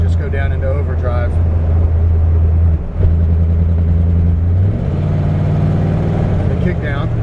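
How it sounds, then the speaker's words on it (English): A 1955 Chevrolet wagon's engine drones loudly from inside the cabin, with a brief dip and then a step in pitch as the transmission shifts down into overdrive. "I don't know if you can hear that transmission just go down into overdrive."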